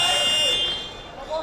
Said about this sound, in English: There's a loud buzzer going, but I don't think it's for this court.